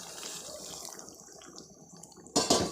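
Hot water is poured into a pot of chicken curry, giving a steady splashing, trickling pour that swells into a louder burst of liquid near the end, with no talking.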